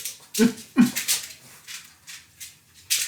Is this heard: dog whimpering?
yes